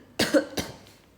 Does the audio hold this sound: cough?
yes